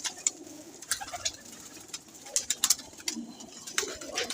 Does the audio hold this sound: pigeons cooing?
yes